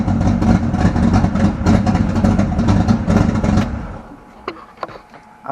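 A 1995 Mustang Cobra engine running loud and close with a rough, uneven idle and a knocking noise, steady for about four seconds before cutting off, leaving a few faint clicks and knocks.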